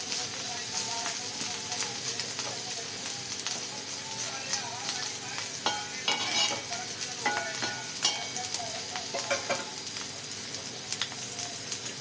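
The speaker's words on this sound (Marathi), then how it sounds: "सगळा मसाला लागूपर्यंत मस्त हलवून घ्यायचे," Bitter gourd coated in spice masala sizzles in a pan while it is stirred, a steady frying hiss broken by scraping and clinking from the utensil, with a voice faintly heard at moments.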